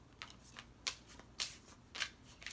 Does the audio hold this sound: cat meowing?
no